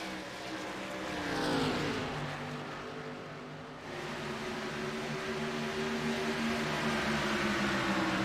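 Race cars in the ANZCAR Thunder series at Rockingham roar past at close range, engines rising and falling in pitch as the field sweeps by in a steady, loud drone.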